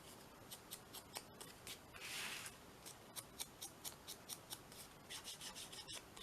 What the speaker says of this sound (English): Going to just cut that like a little tag.